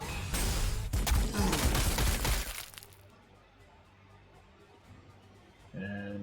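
Loud bursts of gunfire in Warhammer 40,000: Sanctus Reach, a rapid crackling volley for about three seconds that cuts off into quiet ambience, followed by a short tonal game sound at the end.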